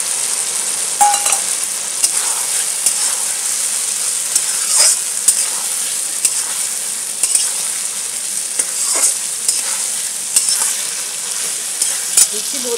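Steady loud sizzling and frying with intermittent scraping stirs as potatoes are mixed with ground spices and peas in hot oil for gule fish curry, continuous throughout with occasional spoon knocks.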